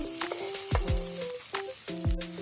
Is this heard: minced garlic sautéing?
yes